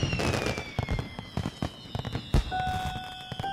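Fireworks pop and crackle in quick bursts, one sharp bang standing out, while high whistling tones glide over the booms.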